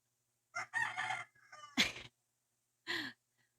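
A rooster crows nearby, a loud drawn-out call followed by a shorter second crow, with a brief sharp noise between them and no talking.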